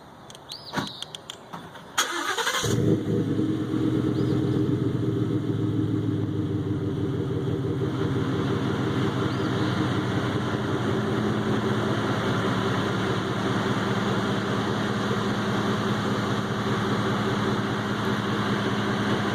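A 2016 Ford F-150 5.0 V8 with Flowmaster Super 50 exhaust and a 3-inch resonator turns over warm and settles into a steady, deep, rumbling idle with a throaty exhaust tone, close by and continuous.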